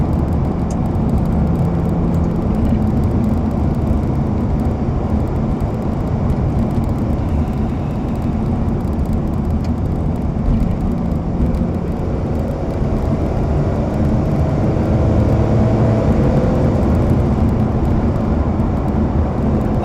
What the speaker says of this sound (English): It just accelerated a little bit there. I was in 5th, just pulled a little bit and then into 6th